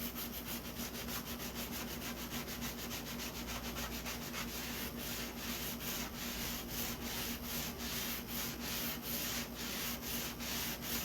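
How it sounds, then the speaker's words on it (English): A sanding block rubbed over a metal pizza pan, a continuous close rasping scrape in quick, regular back-and-forth strokes, with no voices. "Using the sanding block."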